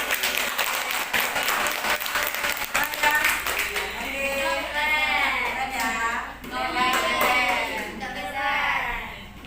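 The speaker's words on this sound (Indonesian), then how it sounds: "Kasih tepuk tangan ya, Kak." Applause in a classroom: a burst of clapping from a group of students that fades as voices rise, with children's chatter and calls continuing over and after it.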